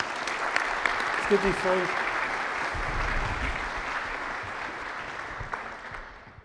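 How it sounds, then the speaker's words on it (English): Audience at a community meeting applauding Grella Signs, a sustained round of clapping that gradually fades, with a brief spoken remark partway through. "A round of applause for Grella Signs, please"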